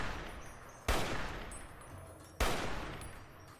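Two sharp, loud sniper rifle shots in Fallout New Vegas, about a second and a half apart, each a sudden crack followed by a long decaying echo, with no talking.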